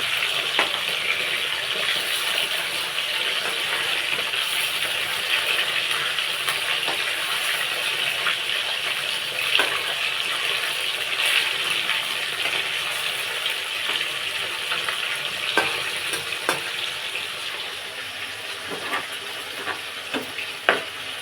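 Prawns frying in hot oil give a continuous bright sizzle with occasional pops and stirring clicks, steady and close throughout.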